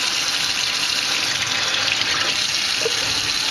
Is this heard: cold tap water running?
yes